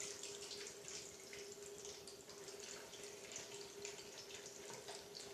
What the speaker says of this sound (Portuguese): peguei aqui o escorredorzinho e vamos aqui escorrer o soro